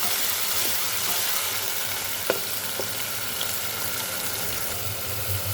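Garlic and ginger shallow-frying in oil for a masala tinda (Indian round gourd) dish, a continuous close sizzle with one or two faint utensil taps, and no one speaks.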